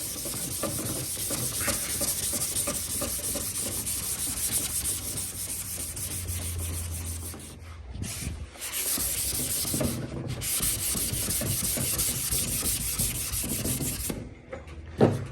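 A sanding block rubbed by hand across a car body panel during bodywork, making long, steady scraping strokes in a rhythmic back-and-forth with a few short pauses between passes.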